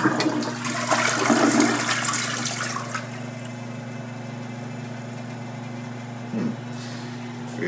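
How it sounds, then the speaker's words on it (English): Niagara Conservation toilet in a hotel bathroom flushes with a loud rushing surge that settles into a steady hum of water refilling the tank, heard alone. "A Niagara toilet,"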